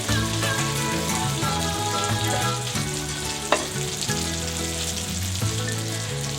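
Bite-sized chunks of lean zebra meat sear in a hot pan with a loud, steady, close sizzle, broken by a few brief stirring knocks.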